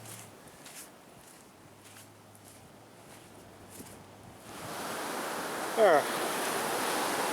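Good-sized ocean waves break and wash up on a long beach on Assateague Island, a steady surf roar that swells louder in the second half, with brief speech near the start.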